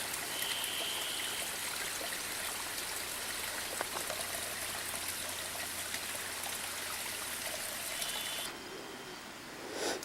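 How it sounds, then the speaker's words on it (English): A babbling mountain brook fed by melting snow cascades along the Mount Roberts path in Alaska, a steady close rushing trickle with birds chirping faintly, easing off near the end. "Can you hear the brook?"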